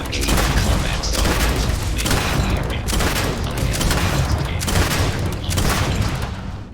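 Grenade launcher in the sci-fi game Starfield, fired in a combat zone: a run of heavy booming blasts at a regular pace, each with a sharp crack and rumbling tail, loud and near.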